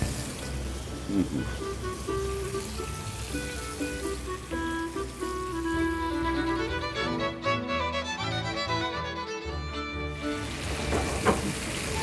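Food frying in a heated pan gives a steady, soft sizzling hiss that runs throughout, with faint sustained tones layered over it.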